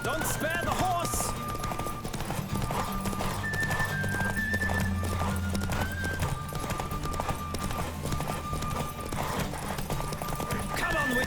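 Rapid, steady hoofbeats of a galloping horse in The Witcher 3: Wild Hunt carry through, with occasional whinnies and a voice talking over background music.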